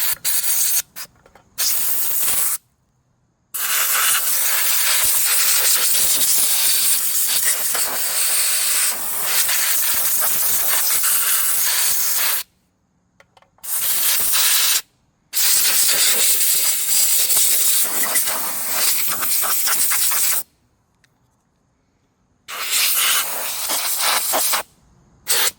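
Compressed air blasting debris out of a 1960s Goodall three-blade mower engine found in a barn, loud steady hissing bursts lasting several seconds each, broken by brief silent pauses, up close with no speech.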